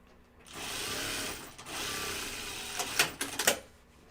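A sewing machine runs in a steady motorized burst while stitching a Wallaby pattern, pausing briefly, then resuming before a few clattering mechanical clicks end the run.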